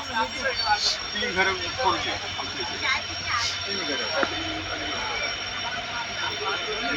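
The Tutari Express pulls out of Dadar station in Mumbai with a steady low rumble and roar, while people talk nearby over the noise.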